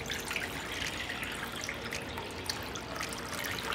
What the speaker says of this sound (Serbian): Prvo što ću raditi, u činiju ću sipati vodu.